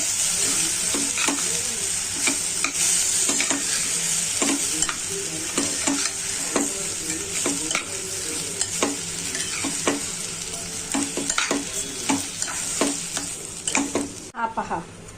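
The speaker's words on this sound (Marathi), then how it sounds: "हे तांदूळ टाकून मी आता परतवणार आहे।" Barnyard millet rice sautés in a pan, a continuous close sizzle broken by repeated scraping stir strokes at an irregular pace.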